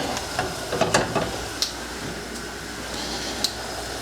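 Hamburger buns sizzle in a small amount of melted butter in a pan, giving a soft continuous hiss with a few sharp clicks and taps from handling at close range.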